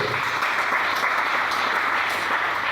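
Church congregation applauding together after a call to acclaim the Lord, a dense, steady wash of clapping that holds at the same level throughout with no break.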